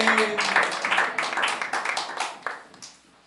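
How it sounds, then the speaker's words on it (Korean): A church congregation at a Wednesday worship service claps together, a dense run of rhythmic applause close by that tapers off and fades to quiet by the end. "주님 영광에 박수를 올려드리겠습니다"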